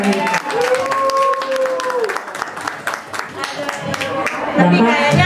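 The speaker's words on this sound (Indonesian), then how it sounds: "Tepuk tangan dong untuk para" Audience clapping and cheering at a celebrity birthday event rises briefly under a host's voice. Scattered claps continue as the talking goes on.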